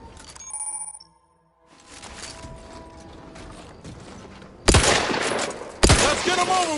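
Turret gunfire in The Outer Worlds 2, opening with mechanical whirring and clicks, then a stretch of scattered shots that breaks into two loud, dense bursts of fire near the end.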